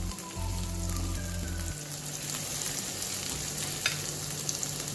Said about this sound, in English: I'm going to start off by sauteing some onions, ginger and garlic.